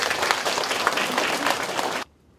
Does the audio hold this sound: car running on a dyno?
no